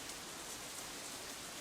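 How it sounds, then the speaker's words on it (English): Heavy downpour of rain from the visual novel game Katawa Shoujo, a steady dense hiss of drops falling on surfaces, continuous and even throughout with no voices. "This horrid downpour came on just as we were between our destination and Yamaku"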